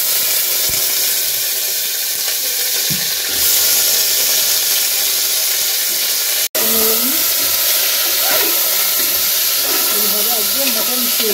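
Two bay leaves are dropped into hot oil for tempering in a mutton dish, giving a loud, continuous close hiss and sizzle with small crackles near the end and a brief break partway through.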